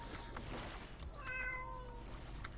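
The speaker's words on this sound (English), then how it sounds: "Cat sounds." A cat meows once in a drawn-out, wavering call in the middle, heard faintly over steady low background noise in the sound effects of a Dota 2 match at The International 2012 group stage.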